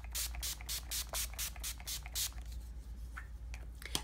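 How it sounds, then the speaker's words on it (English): About eight quick hissing spritzes of an Urban Decay Chill makeup setting spray bottle in a fast rhythm, close up, followed by a couple of softer handling sounds. "This is Urban Decay Chill Makeup Setting Spray."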